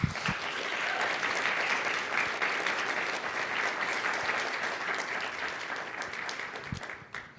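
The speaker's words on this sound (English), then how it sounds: "Can we give them another round of applause?" Sustained round of applause from a conference audience after a panel on opioid settlement funds, dense steady clapping filling about seven seconds before tapering off abruptly at the end.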